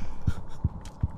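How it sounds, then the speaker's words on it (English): Heartbeat from a Roblox horror game: three deep, low thumps spaced evenly about a third of a second apart, steady and moderately loud over a faint droning background hum. "I hear a heartbeat"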